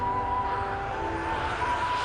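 An Airbus A400M taxiing at Farnborough Airshow: a steady, continuous turboprop drone with a faint high whine, heard at a moderate distance with no voices.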